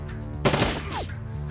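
Burst of gunfire in the video game Shadowrun Dragonfall: a single short, loud rapid volley lasting about half a second over a steady low game background hum, with no talk.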